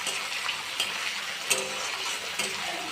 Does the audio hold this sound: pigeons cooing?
no